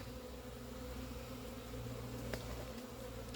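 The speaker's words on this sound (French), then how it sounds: "il y a vraiment beaucoup d'abeilles" Honeybees buzzing around a hive at an apiary in Montgeron, a dense, steady, faint hum with no voices.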